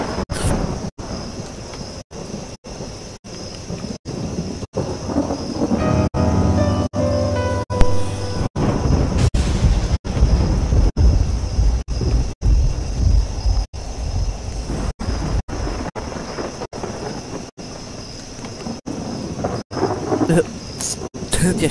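Rain and thunder in a video game set in Hanwell, a steady dense rainfall with low rumbling thunder rolling underneath, continuous and fairly loud throughout.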